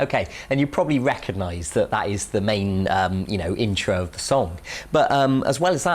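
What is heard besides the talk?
No distinct noise like a dog, phone or traffic.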